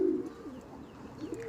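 Pigeons cooing in a loft housing around thirty birds, a soft, low, continuous burbling close by with a slight swell at the start and again near the end.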